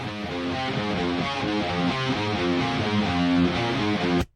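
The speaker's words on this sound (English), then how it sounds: "We have two sets of rhythm guitars" Two hard-panned rhythm guitar tracks with no processing, from a metal song, play a steady chugging riff of dense, loud chords for about four seconds before stopping abruptly.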